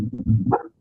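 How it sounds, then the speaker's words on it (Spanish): A pet dog barks once, a short, loud burst close by indoors that fades quickly into silence. "perdón, ese es mi perro"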